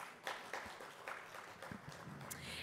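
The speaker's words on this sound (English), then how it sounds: "Let's give him a round of applause." Applause from a conference audience at an education panel discussion in Dubai, faint and somewhat distant, a soft steady patter of many hands in a large hall.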